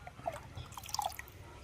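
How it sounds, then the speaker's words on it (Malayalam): Plant seedlings get a light shower of water, heard as faint, scattered drips and small patters of water landing close by. "വെറുതെ ഒന്ന് ഷവർ ചെയ്ത് കൊടുത്താൽ മതി"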